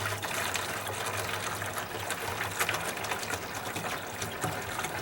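Treatment liquid for mold and fungus pouring into a 2-gallon Hudson sprayer, a steady continuous splashing gush under a low hum, close and unbroken throughout.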